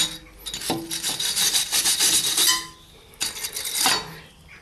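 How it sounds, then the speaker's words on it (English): A wire brush scrubs the brake hub of a Toyota Yaris before a new front disc is fitted, giving close, rasping back-and-forth strokes in two bursts with a brief pause between them. "I'm just gonna wire brush the area a little bit here."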